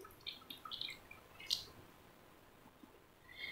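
Faint drips and soft squishes as water is squeezed out of grated bottle gourd by hand, a few scattered wet ticks in a quiet kitchen with no talk.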